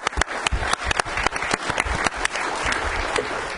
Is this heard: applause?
yes